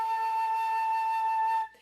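A flute sounds a single sustained high A, a pure, steady tone held for about a second and a half before stopping, clear and close with no talking.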